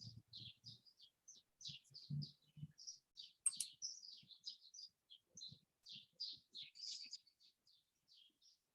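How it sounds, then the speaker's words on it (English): Birds chirp and tweet outside a window in a rapid, continuous series of short, fairly faint calls, with occasional low thumps beneath and no voices. "I can hear the birds outside, Richard."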